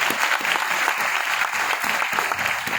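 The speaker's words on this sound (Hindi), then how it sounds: "ऐसे हमारे संगीतकार सर के लिए एक बार जोरदार तालियां होना चाहिए।" Loud, dense applause from a live audience for a music composer at a stage event, steady and sustained throughout with no talk over it.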